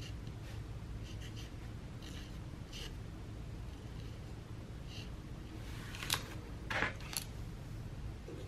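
A pen or marker draws a line across a painted rock, making faint, soft scratchy strokes over a steady background hiss, with a few slightly louder scrapes near the end.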